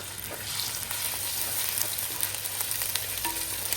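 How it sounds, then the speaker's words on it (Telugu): Green chillies and onions frying in hot oil for a fish pulusu curry, a dense continuous sizzle with a few light stirring clicks, close up and without speech. "పచ్చిమిర్చి, ఆనియన్ 2 వేసుకోవాలి. అవి ఫ్రై అయినాయి."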